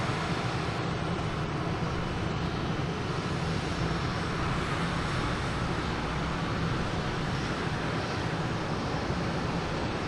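An Icelandair Boeing 767 airliner at Boston Logan, a continuous broad roar of jet engines holding steady and loud for the whole stretch, with no voices.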